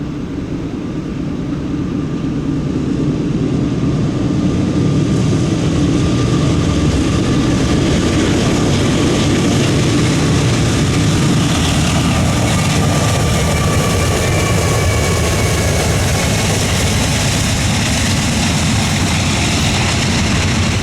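Freight train rolling steadily past at close range, with a 9800 series locomotive trailing at the rear; a loud, continuous rumble and clatter of wheels on rails lasts about twenty seconds without letting up.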